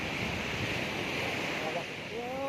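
Waves wash in at Pattinambakkam beach in Chennai, a steady broadband roar of surf mixed with strong wind gusting across the microphone, with a brief voice near the end.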